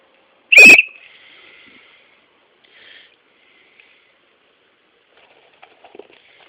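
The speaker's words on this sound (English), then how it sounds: "And then my first aid kit, I have a whistle." A single sharp, loud whistle blast from an emergency whistle kept in a camping and hiking first aid kit, followed by a fading tail and a few faint handling taps in an otherwise quiet setting.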